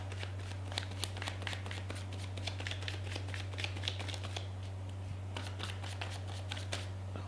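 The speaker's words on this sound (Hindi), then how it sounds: "एक बार और शफल" Tarot cards being shuffled by hand, a steady run of soft, crisp riffling clicks close by over a low constant hum, with a brief pause midway before the riffling resumes.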